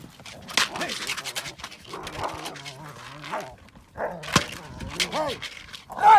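A dog barks and whimpers outdoors at an entry-level dog trial, with short yelps and whines scattered through the scene while people talk nearby over it.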